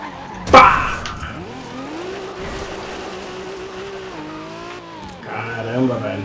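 Toyota Supra tire squeal and skid in Forza Horizon 2 as the car fails to brake, a sharp screech rising over a steady engine drone with a brief loud burst early on.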